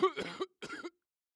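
Two harsh, close coughs in quick succession, each a rough burst followed by a short pause, then silence.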